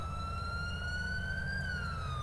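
Police car siren in GTA 5 with the LSPDFR mod, a loud electronic wail that rises slowly in pitch and then drops, held continuously throughout over a low engine rumble.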